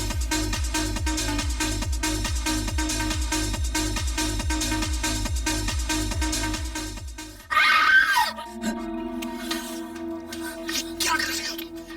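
A woman screams in a dramatic crime scene, a sudden loud cry cutting in after a long stretch of pulsing music and trailing off into tense background sound.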